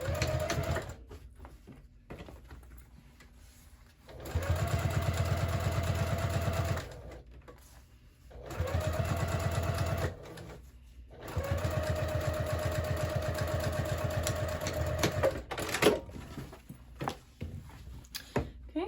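A sewing machine top stitches the side seam of a crossbody bag at an eighth-inch allowance, running in three steady bursts of rapid, even needle chatter separated by short pauses.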